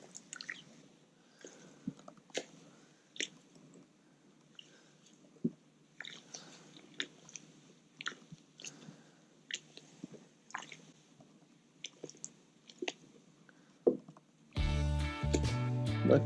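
Grain being stirred into mash for a honey wheat ale brew, giving soft repeated squishing, dripping and knocking of the paddle, close and fairly quiet, with a louder burst of noise at the end.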